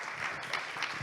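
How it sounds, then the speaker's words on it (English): Applause for the speakers at an AI and media panel event, a brief stretch of full, dense audience clapping that holds steady throughout. "Please give a big round of applause to our speakers."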